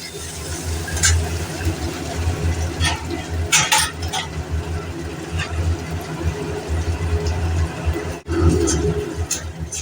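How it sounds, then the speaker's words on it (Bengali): Green chillies and ginger paste fry in oil in a pan, a continuous sizzle with scraping and stirring clinks of a utensil against the pan, close and fairly loud. "এই বাকি তেলটার মধ্যে দুটো কাঁচা লঙ্কা আর আদা বাটাটা দিয়ে দেব"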